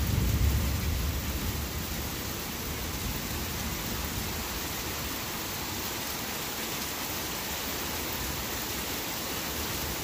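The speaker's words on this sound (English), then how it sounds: "it's really raining to beat the band out there now" Steady, dense downpour of heavy rain roaring without letup, with a low rumble of thunder at the very start.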